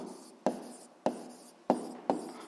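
Handwriting on a surface during a physics lesson: four distinct scratchy strokes, each with a sharp onset that fades quickly, about half a second apart, close and clear with no voices.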